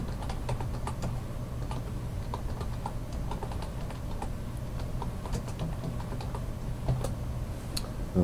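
Keys clatter on a computer keyboard in quick irregular bursts, soft and close in a quiet room with a faint steady hum underneath.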